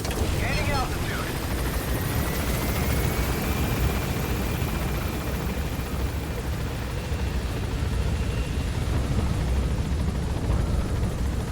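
Helicopter in Metal Gear Solid 5, a dense continuous rotor and engine roar that holds steady and loud throughout, with a thin whine fading early on.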